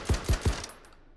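Three quick, booming shots from a Mark 12 rifle in the VR game Hot Dogs, Horseshoes & Hand Grenades, evenly spaced and loud, followed by a short fading tail.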